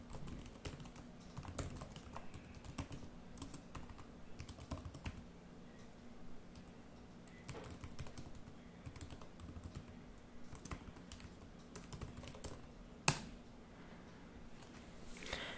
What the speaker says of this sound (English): the first thing you're going to do is start a command prompt, and that is done by typing in this command